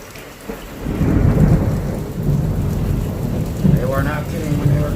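Heavy thunderstorm during severe weather, with steady loud rain and deep rolling thunder rumbling throughout, a sharper crack near the end, and faint background sound.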